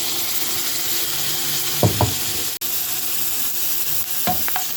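Minced garlic fries in a spoonful of ghee for a cow's-trotter sauce, giving a loud steady sizzle. A few scraping stirs of the spoon cut through, with a brief clink partway.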